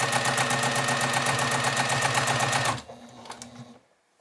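A sewing machine doing free-motion quilting on a sampler block runs in a fast, even stitching rhythm close by, then slows and stops, leaving a faint hum that fades to quiet.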